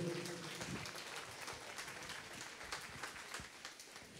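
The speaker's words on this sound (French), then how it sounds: "On peut applaudir cette initiative, mesdames, messieurs." At the opening ceremony of a Relay for Life event at ULB, an audience applauds in a steady, fairly distant wash of clapping with a few sharper individual claps.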